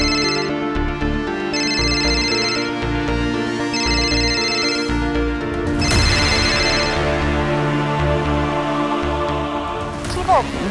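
A mobile phone ringtone plays again and again from repeated calls, a loud, melodic tone that repeats steadily throughout.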